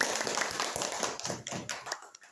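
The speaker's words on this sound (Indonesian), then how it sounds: "Tepuk tangan dong buat kita semua." A group of students claps together in a classroom after a group discussion: dense, steady applause of many hands, moderately loud and close, lasting the whole moment with no talk over it.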